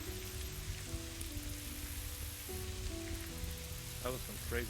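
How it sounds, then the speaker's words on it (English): Steady rain falls at night in the Mortal Online 2 game world, a continuous hiss with a soft, sizzling texture, under a low ambient hum and faint tonal music, holding evenly throughout. "Just night and rain."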